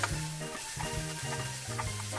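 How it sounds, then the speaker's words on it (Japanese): Yakisoba noodles being stir-fried in a home pan, the food stirred and tossed with a spoon, giving quick scraping clatters over a steady light sizzle, close and fairly quiet, with no talking. "こっちもしっかり炒めて"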